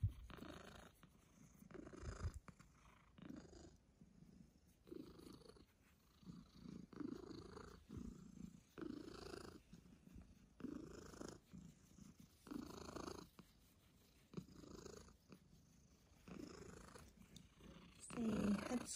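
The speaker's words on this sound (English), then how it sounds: "We are all purrs tonight." Housecat purring steadily and close, a rough rhythmic rumble pulsing in and out with each breath, with a voice talking softly in places.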